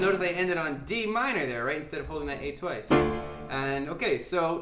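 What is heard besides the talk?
No distinct noise like a dog, phone or traffic.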